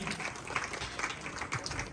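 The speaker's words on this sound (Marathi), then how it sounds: "जरा टाळ्या वाजवा ज्योती वहिनीसाठी" An audience at a village women's game show gives a round of applause, a soft, steady scatter of clapping hands heard at a distance.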